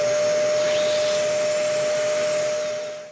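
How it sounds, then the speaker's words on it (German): A power tool cuts a thread with a tap in a workpiece, running with a steady whirring drone and a thin constant whine, holding level before tapering off at the end. "jetzt wechseln wir den Bohrer gegen den Gewindeschneider aus und bohren dann hier das Gewinde rein"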